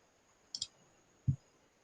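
Computer mouse clicks, two quick separate clicks close together and faint against quiet room hiss.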